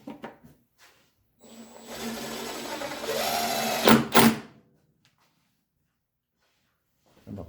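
A cordless drill whirs for a few seconds driving an outdoor deck screw into the wood of a two-chamber bat house. The motor pitch rises and strains near the end, then silence follows.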